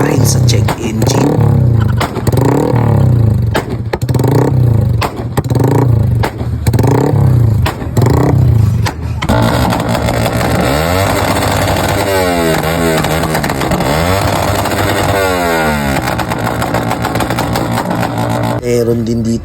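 A modified motorcycle with a CNC crank revs loudly and close during a sound check, first in rhythmic bursts of throttle, then in sustained high revving with rising and falling pitch.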